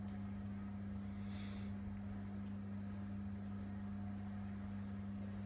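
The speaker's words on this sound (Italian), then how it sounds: "ecco che il bollitore è entrato in funzione." A cordless stainless steel Aicok electric kettle starting to heat, a faint steady low hum with a constant electrical drone, quiet and close, with no one talking.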